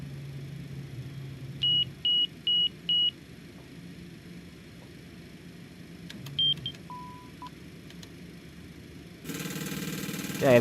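Stall warning test in the cockpit of a Cessna Citation X flight simulator: four short, even electronic beeps, then a few scattered tones and a lower held tone over a steady cockpit hum, ending in a louder rush of noise.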